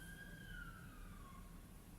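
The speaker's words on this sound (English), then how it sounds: "Do you hear sirens?" Distant siren wailing faintly, a single sliding tone that falls slowly, heard alone under a low background rumble.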